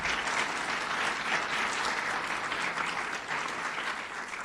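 An audience at a Boston community event celebrating tuition equity and free community college in Massachusetts applauds, dense steady clapping that fills the room evenly for several seconds with no voices on top.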